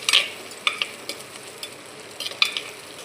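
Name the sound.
sautéing garlic in a pan for fish curry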